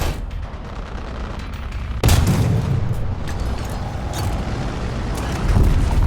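A single heavy boom from the tank gun of a Harry Hopkins Mk I in the War Thunder video game, followed by a long rumbling decay and steady engine drone.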